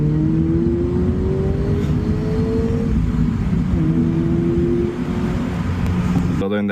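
A 2022-or-later Toyota GR86/Subaru BRZ fitted with a GR intake launches on a back road, its engine droning loudly and climbing in pitch through the revs, heard from inside the car.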